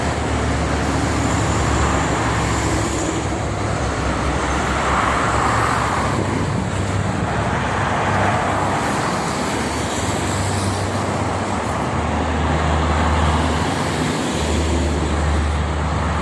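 Steady, dense morning traffic on the Jakarta–Cikampek toll road, with buses and loaded cargo trucks such as a full Scania rumbling past continuously, a broad roar swelling and easing as heavy vehicles go by, with wind noise.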